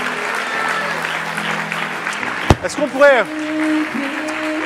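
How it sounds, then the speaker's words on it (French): A church congregation claps briefly at a French-language service, with scattered applause under an ongoing amplified voice, then a sharp hit and a sung or shouted vocal phrase before the voice continues over a held tone. "disent Amen et applaudissent celui qui est vivant ce matin."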